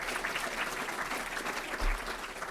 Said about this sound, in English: We have to give them a round of applause.